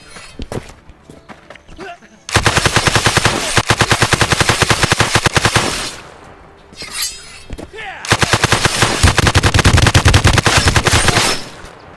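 Sustained automatic bursts from an M4A1 rifle in the VR game Blade and Sorcery, two long rapid strings of loud close shots separated by a short pause, with a voice talking between them.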